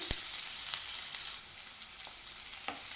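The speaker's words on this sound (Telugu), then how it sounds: "వీటిని ఆయిల్లో మంచిగా ఫ్రై చేసుకోవాలి" Sliced green chillies and onions frying in hot oil give a steady, close sizzle with occasional sharp pops and crackles throughout.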